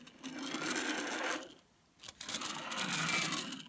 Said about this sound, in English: This is a knife that's a little duller.